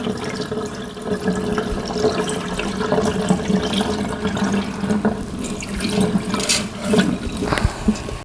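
Water from rinsed rice drains steadily into a kitchen sink, a continuous splashing, gurgling flow heard up close and fairly loud with no voices.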